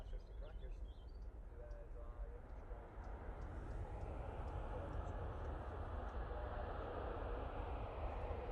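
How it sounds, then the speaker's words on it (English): KLM airliner arriving at Manchester Airport, a broad jet engine rumble swelling from moderate to louder as it nears, with a brief voice early on. "And here comes the KLM."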